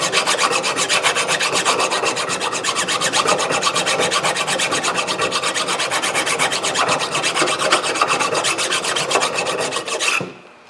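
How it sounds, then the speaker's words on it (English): Hand file scraping rust off a rear brake part on a 2007 Toyota Camry, a loud, close, rapid rhythmic rasping of steady back-and-forth strokes that continues for about ten seconds before stopping. "you can get in here with a file like this and just clean it up"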